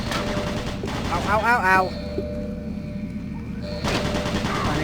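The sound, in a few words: automated turret guns firing in Doom BFG Edition video game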